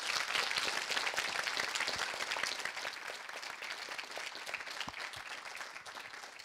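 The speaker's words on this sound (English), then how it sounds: "Can I get a massive round of applause for these amazing speakers" Sustained applause from an audience thanking the speakers of a ChatGPT academic panel at a Think & Drink event, dense and steady throughout, slowly easing off toward the end.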